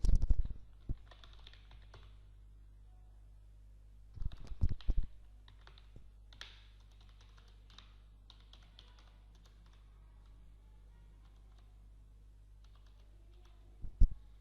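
Keys clatter on a computer keyboard while entering data into an MS Excel sheet, scattered bursts of quick clicks separated by pauses, close and fairly quiet over a steady low electrical hum.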